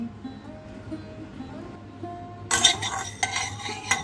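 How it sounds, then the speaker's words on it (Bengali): Whole cumin, cinnamon, cloves, cardamom and peppercorns dry roasting in a pan, quiet at first, then a spoon clinks and scrapes against the pan with bright metallic rattles near the end. "শুকনো খোলায় কিন্তু মশলাটাকে আমরা ড্রাই রোস্ট করে নিচ্ছি।"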